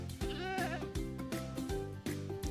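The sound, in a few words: goat bleating in video game Minecraft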